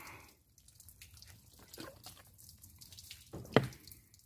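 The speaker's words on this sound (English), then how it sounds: "the water trickles down, comes through here, goes right down this A-pillar" Rainwater trickles and drips onto a Jeep Wrangler, running down the inside of the A-pillar through a leak at the windshield. Faint, scattered drips come near and close, with one sharper splash toward the end.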